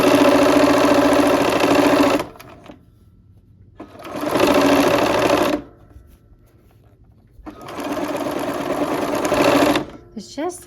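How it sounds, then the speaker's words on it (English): A sewing machine stitches quilt fabric pieces with a quarter-inch seam, three loud bursts of rapid whirring separated by quiet pauses, close by. "There's just something soothing about running fabric through the machine"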